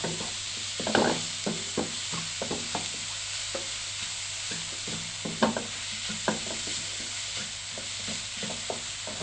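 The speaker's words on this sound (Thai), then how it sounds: "ผัดให้หอมแดงสุกดีค่ะ พอสุกจะมีสีใสขึ้นนะคะ" Chopped shallots sizzle steadily while they are stir-fried in a pan. A spatula scrapes and taps against the pan now and then, with no one talking.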